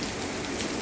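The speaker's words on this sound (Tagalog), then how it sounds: "bigla nang dumilim at sabay pag-agos ng ulan" Heavy rain pouring down outdoors during a sudden downpour, a dense, steady hiss and patter of drops on surfaces, loud and close with no other sounds.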